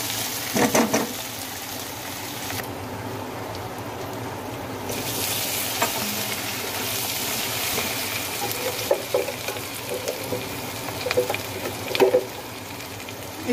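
Capsicum dry curry seasoned with thecha chili paste is sautéed in a pan with a continuous hissing sizzle. Scattered clicks of stirring recur throughout.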